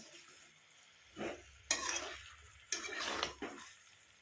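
Masala roasts in oil for Bihari-style chicken curry, with a soft sizzle broken by several sharp scraping stirs of a spoon against the pan.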